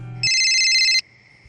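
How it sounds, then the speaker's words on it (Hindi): An electronic phone ringtone sounds once, loud and close, in a steady high-pitched burst of under a second that cuts off abruptly, with a quiet room behind it and no talking. "और फिर एक रात राजीव अन्ना का मुझे फ़ोन आया।"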